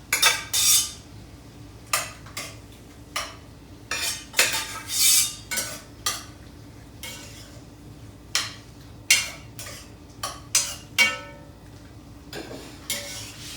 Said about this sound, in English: We're going to get it all coated with that beautiful sauce.